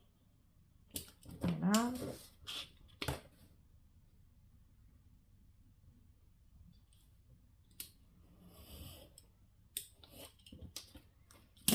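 Scissors cut paper for a floral scrapbook page, producing a few quick snips and crisp rustles and then sparse clicks, with brief speech heard in the clip.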